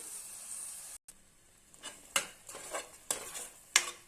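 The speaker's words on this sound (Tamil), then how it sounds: "நம்ம ஊற்றுனதையும் தேங்காய் இதெல்லாமும் நல்லா இதில் கலந்து விட்டுடலாம்" A spoon stirs ground coconut and cashew paste into fried masala in a pan, with a soft sizzle underneath and several distinct scraping strokes against the metal, close and fairly quiet, no talking.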